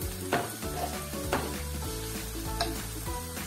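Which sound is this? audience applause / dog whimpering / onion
onion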